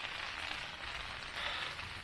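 Rain beating on a tent with gusting wind, a steady soft hiss of drops that thickens slightly partway through.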